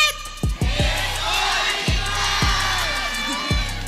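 An esports arena crowd at a Philippine MPL playoff match roars in a loud, sustained wall of cheering and whoops for the Sonics team, punctuated by booming low thumps.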